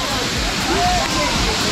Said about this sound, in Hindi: और बहुत सारा शोर है इधर पानी का, आप लोग देख सकते हैं।